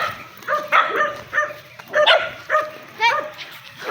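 Dogs bark in short, sharp bursts of about eight yips and barks spread evenly across a few seconds, fairly close by, against a quiet outdoor background.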